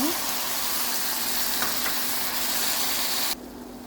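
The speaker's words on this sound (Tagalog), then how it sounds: "Fry until it turns to golden brown" Fish frying in a pan with tomato, a steady close sizzle of hot oil that holds evenly before dropping off sharply near the end.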